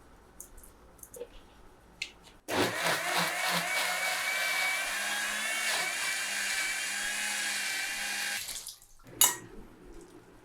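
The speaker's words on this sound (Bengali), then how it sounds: "ঠান্ডা করে নিয়েছি আর এখন এটা ব্লেন্ড করে নিব।" A blender runs on boiled, cooled tomatoes for homemade tomato sauce, giving a loud, steady whirring roar close by for about six seconds. Quieter kitchen clatter comes before it and after it stops.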